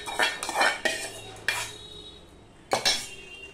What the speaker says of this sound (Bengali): এবার সম্পূর্ণটা ভালো করে আমি মিশিয়ে নিচ্ছি